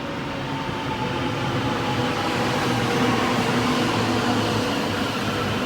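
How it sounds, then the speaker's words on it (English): A train on Melbourne's Frankston line rumbles steadily past a level crossing, nearby and loud, a continuous dense roar of wheels and carriages with no voices. "I'm pretty sure we'll see a train coming."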